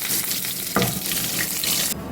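Curry leaves drop into hot oil with a sudden burst of crackling sizzle over the ongoing frying hiss, then it stops abruptly.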